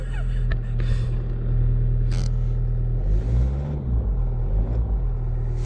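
A high-mileage Japanese car at 316,000 miles, its engine turning over slowly and catching into a steady low idle rumble, heard close and continuous throughout.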